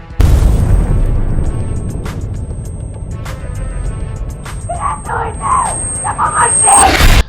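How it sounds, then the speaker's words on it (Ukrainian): Loud booming explosions and rumbling over a sustained high whine, followed by shouting voices near the end, from the A Quiet Place: Day One film trailer. "Машини літають, усе вибухає, люди навколо кричать"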